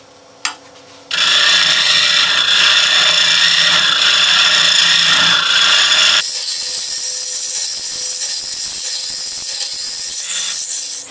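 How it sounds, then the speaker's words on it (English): Wood hollowing on a lathe while an open wooden vase is turned, a loud continuous scraping, rasping cut that starts abruptly, then shifts to a thinner, higher hiss partway through before stopping. "I'm just concentrating on getting most of the hollowing done"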